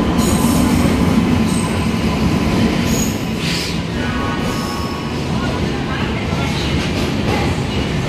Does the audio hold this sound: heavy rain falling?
no